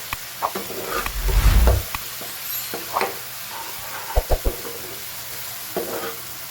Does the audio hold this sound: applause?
no